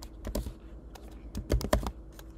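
Keys clack on a computer keyboard as a search is typed into a Mac's launchpad. The bursts of close, crisp clicks come in two quick clusters with a pause between them, and no one talks.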